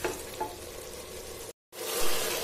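Minced meat keema being stir-fried and roasted in a pan with potatoes, giving a steady close sizzle with faint stirring, broken by a brief moment of silence before the frying noise resumes.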